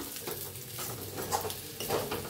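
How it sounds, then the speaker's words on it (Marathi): Sabudana khichdi stirred in a pan, a soft scraping and gentle sizzle with a few clinks of a spoon against the metal, close by and unhurried, with no talking. "मिक्स करूया।"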